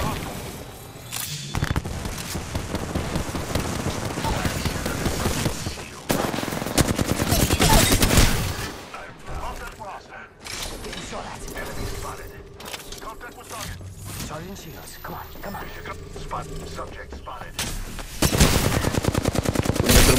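Shotgun blasts and other gunfire crackle in rapid, dense bursts in a shooter video game, loud and continuous across the stretch, with people talking over the shooting.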